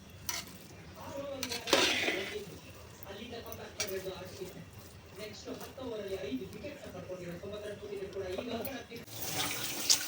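Mushroom biryani is stirred in a pot, with soft scraping and clinking of a utensil against the pot while a person talks over it almost throughout.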